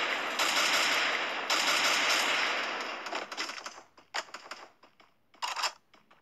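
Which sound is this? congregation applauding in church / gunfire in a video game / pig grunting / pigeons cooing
gunfire in a video game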